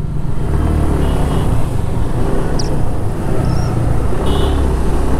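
A large group of about thirty motorcycles rides together along a narrow road from Manikganj toward Baliati, making a steady, dense engine and road roar that stays loud and constant throughout.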